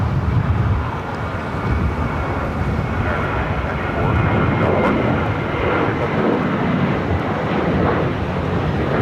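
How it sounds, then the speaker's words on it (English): An American Airlines Boeing 737-800 taking off at LAX for Phoenix gives a loud, sustained jet engine roar that holds steady across the whole stretch, mixed with wind buffeting. "Taking off, heading to Phoenix, American Airlines"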